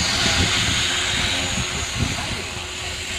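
A 450-size Golden Heli RC helicopter flies at a flying field, its steady high-pitched motor and rotor whine continuous and fairly loud throughout, with people talking underneath.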